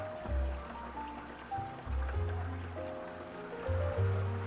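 Water pours into an aquarium tank from an AquaVac water-change hose, a steady low gushing and splashing that surges in several pulses as the tank nears full.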